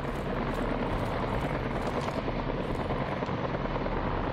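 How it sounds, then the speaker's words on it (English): Helicopter in the video game Daymare 1998, a steady, dense rotor and engine roar holding at an even level throughout, fairly close with no voices over it. "Oh, it's the helicopter I can hear."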